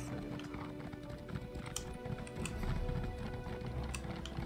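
Horse hooves clop in a quick galloping rhythm in Elder Scrolls Online, steady repeated thuds with faint ambient sound behind them, fairly quiet and even.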